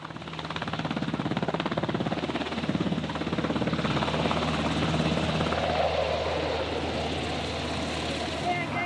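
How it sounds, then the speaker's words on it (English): A military helicopter arrives for an assault landing with troops roping down, its rotor and engine making a loud, steady drone that holds the whole way through, with faint voices underneath. "who arrive in style in a helicopter assault at the end of a rope"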